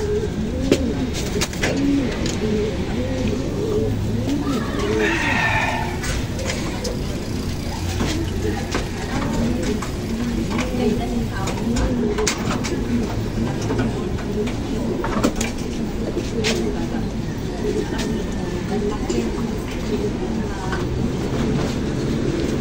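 Pigeons coo steadily and close by, soft repeated throaty calls over a constant low rumble, with a faint voice in the background.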